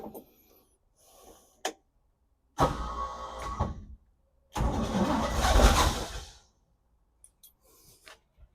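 A 1967 Chevrolet C10 pickup engine cranks in short bursts, then catches in two louder pulses before revving briefly and dying away, heard close with quiet gaps between attempts.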